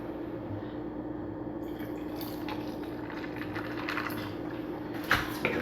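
About 1.5 ounces of Russian Prince vodka is poured into a Moscow Mule mug as a quiet liquid trickle over a faint, steady background hum.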